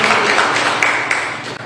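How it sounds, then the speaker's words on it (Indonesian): Congregation clapping during a Good Friday church service, a dense burst of applause fading over under two seconds. "Kita boleh tepuk tangan bagi Tuhan"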